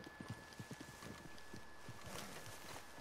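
Quick, light clip-clop of horse hooves in Red Dead Redemption 2, an uneven trot, fairly quiet and close, with a faint wash of ambient noise behind.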